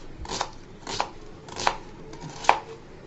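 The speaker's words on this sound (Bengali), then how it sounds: "এই পর্যায়ে আমি পেঁয়াজটাকে কেটে নিব" A knife chops an onion on a cutting board in four distinct, evenly spaced strikes, crisp and close, each a short thud with a sharp click, with no talking.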